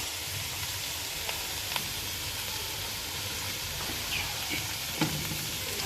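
Macaroni frying and being stirred in a pan for chicken macaroni samosa filling, a steady loud sizzle with occasional scraping clicks of the spoon throughout.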